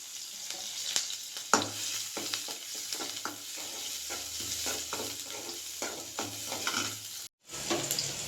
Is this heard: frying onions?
yes